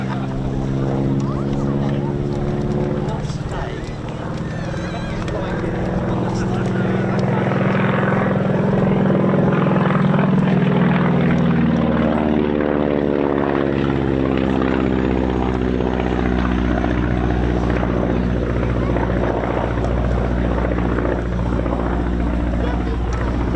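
A Beechcraft Staggerwing's piston engine and propeller drone steadily at an airshow, a loud throbbing hum with shifting pitch as the aircraft passes, and a voice talks over it.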